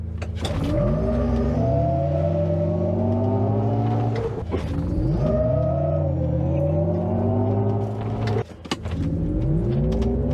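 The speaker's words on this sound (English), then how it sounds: "This vehicle is screaming" A GMC Hummer EV launches in Watts to Freedom mode, giving a loud, rising electric whine that sweeps upward repeatedly over ten seconds with road rumble beneath.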